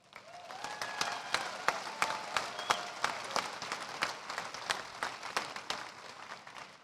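Audience applause at the Hazen High School commencement, with scattered claps swelling into steady clapping and distinct individual hand claps standing out, a few faint voices underneath.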